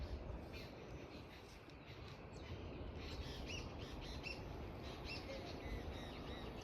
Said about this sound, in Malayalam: ഈ കിളികളുടെ ചിലപ്പ് കേൾക്കാൻ നല്ല രസമില്ലേ?